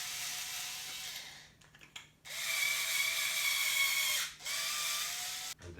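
An M4 thread starter cuts a thread into a part during a 3D printer bed and Z axis assembly, giving a steady whirring, ratcheting mechanical drone in a few sustained bursts with short pauses between them.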